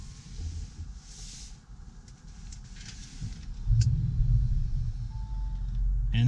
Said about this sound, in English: as you hear, this is the sport exhaust that you can option for this car